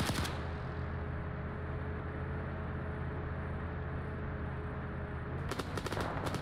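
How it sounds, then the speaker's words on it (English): Sustained gunfire from a hilltop position in the military game Arma 3, a dense, loud continuous roar of shots with heavy low rumble, ending in a few sharp separate bursts near the close, no talking. "Taking fire again from the hilltop."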